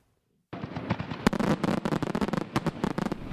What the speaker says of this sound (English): Fireworks can be dazzling